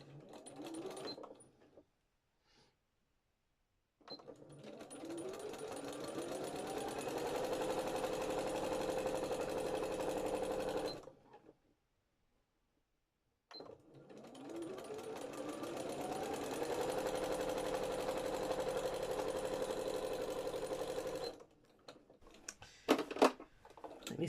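A sewing machine stitches a fabric drawstring bag in two long bursts of rapid, even whirring and needle clatter, close and loud, each ramping up in speed and stopping cleanly, with a quiet pause and small handling knocks between.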